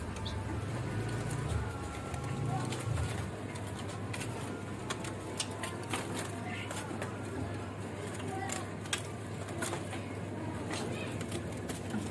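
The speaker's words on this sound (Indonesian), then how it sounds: "Di sini ada juga teledekan gunung ori Jawa ya" A Javan mountain teledekan calls in a bird shop, its short chirps and whistles scattered through a steady background hum while someone talks over it close by.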